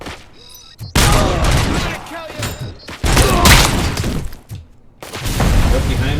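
A grenade blows up in the Robocop Rogue City game, a sudden loud blast followed by further heavy booms and debris rumble, separated by short quiet gaps.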